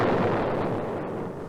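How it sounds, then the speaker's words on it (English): A ship packed with gunpowder explodes in a loud, sustained roaring blast that rumbles on for the whole stretch without letup, dense and close, with no voices. "There was a big explosion."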